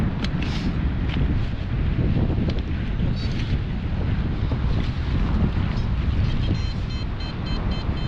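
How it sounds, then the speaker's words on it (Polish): Strong wind roars steadily outdoors during a Christmas Eve metal-detecting search, buffeting the microphone with a constant loud rush and no speech. "ale wieje ciężko pod korzeniem"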